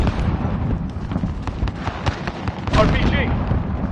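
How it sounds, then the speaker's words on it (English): A frag grenade goes off in a video game firefight, a sharp crackling burst amid rapid popping gunfire and loud combat noise, with a voice talking over it. "Throwing frag."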